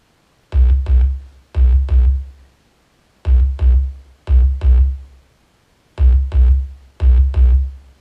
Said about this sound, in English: So I played the original loop for the verse part, and it sounds like this.